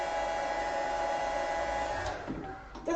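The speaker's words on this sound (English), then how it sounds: "Okay, sorry about the hairdryer, but it's a necessity." A hairdryer on its low setting blows steadily at close range to dry watercolour paint. The whoosh stays constant, then eases and stops near the end.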